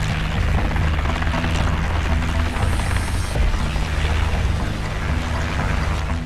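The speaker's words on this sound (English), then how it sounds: "the 100-foot-long Boeing CH-47 Chinook helicopter has given most Navy teams in small water craft the much-needed edge" A Boeing CH-47 Chinook twin-rotor helicopter roars with a loud, steady low-frequency rotor drone and broadband turbine rush, constant and close, with no pauses or talk.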